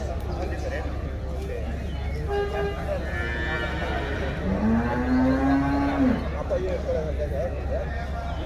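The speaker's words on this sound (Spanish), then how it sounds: "Está bonita la vaca" A cow moos once in a long, loud, rising and falling call at an El Salvador livestock market, heard over steady crowd chatter and background market noise.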